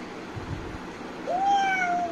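A voice imitates a cat with a single rising then falling meow, clear and close, over faint background noise.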